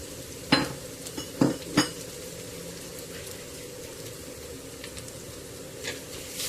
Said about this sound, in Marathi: हे सुद्धा परतून घेऊया. गॅस मंद आचेवर केलेला आहे.